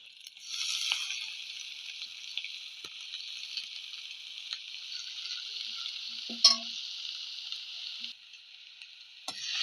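Chopped ash gourd (kumbalanga) leaves with curry leaves and salt fry in a hot pan, a steady close sizzle with a sharp spoon scrape midway through and a louder stir near the end.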